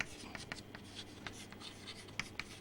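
Pen or chalk scratching steadily while writing out the modified Euler's formula in a maths lesson, with soft, quiet strokes and occasional taps.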